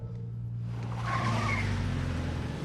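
Car peeling out, tires squealing in a rising skid over a rough engine rumble, moderately loud and without speech.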